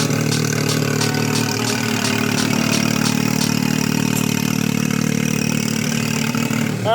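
A Can-Am off-road vehicle engine idles in the desert with a steady, loud mid-pitched rumble and a rapid ticking pulse, continuous and without any talking.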